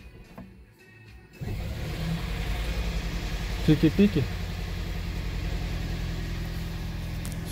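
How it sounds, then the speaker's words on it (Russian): A Toyota Fielder engine catches after its inverter was removed and settles into a steady idle, a low continuous rumble. A brief beeping burst rises over it, and a voice speaks over the running engine. "Будем заводить тачку."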